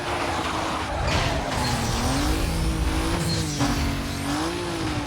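A race car engine in Need for Speed Most Wanted screams at top speed, its pitch wavering through gear changes and corners, with a hint of tire squeal throughout.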